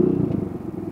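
A large motorcycle engine rumbles steadily and close by while riding in traffic among trucks, with a low, even throb that carries on without a break.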